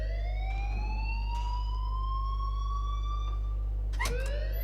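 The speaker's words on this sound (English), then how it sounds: "please turn off that alarm since that's your job" A wailing alarm siren from the video game Life is Strange, rising and sweeping in repeated howling tones, loud and continuous, with a sharp burst near the end.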